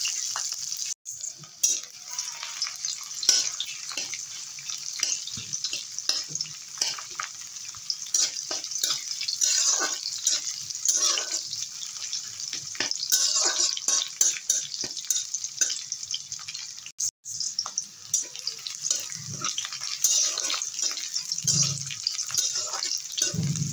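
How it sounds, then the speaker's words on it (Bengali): Crushed garlic and chopped onion fry in hot oil in a pan, a continuous crackling sizzle broken by scraping stirs and clatters, with faint talk underneath. "পেঁয়াজ রসুনগুলো নেড়ে চেড়ে ভেজে নিলাম"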